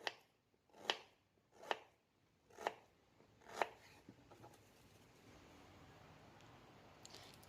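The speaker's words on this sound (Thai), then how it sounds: "หลังจากที่เรา หั่นฝรั่งเสร็จแล้วเรียบร้อยนะคะ" A knife chops guava for a dried snack, with five sharp, evenly spaced cuts close up, followed by quiet, soft handling noise.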